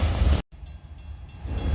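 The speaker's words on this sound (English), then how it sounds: "And this train has some pretty cool cars on it too." A Norfolk Southern train rolls past with a dense, loud rumble and rattle of cars, briefly cut off, then continuing steadily.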